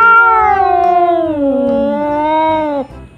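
A toy cat gives a single drawn-out, tonal meow with a falling, wavering pitch, loud and close, lasting nearly three seconds before cutting off.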